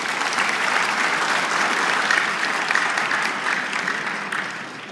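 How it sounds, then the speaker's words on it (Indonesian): An audience at the Indonesia ICT Award 2013 gala night applauds for Professor Habibie, the clapping loud, dense and sustained, easing slightly toward the end. "Boleh tepuk tangan untuk beliau."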